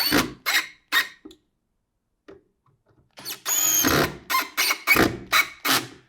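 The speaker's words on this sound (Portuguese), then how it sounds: "Eu vou ter que parafusar ela aqui, desse jeito" A power screwdriver drives a screw into the reinforced back of a cabinet, with short whirring bursts, a pause, then a series of rapid squeaky pulses close by.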